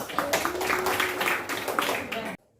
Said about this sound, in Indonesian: Ya, tepuk tangan untuk kelompok 5.